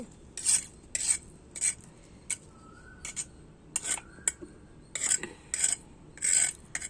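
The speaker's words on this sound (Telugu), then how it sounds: "రోట్లో కొట్టుకుంటున్నానండి" Prawn and chilli paste being pounded and ground in a stone mortar: repeated short rasping grinding strokes, close and fairly loud, in an uneven rhythm of about a dozen bursts with brief pauses between them.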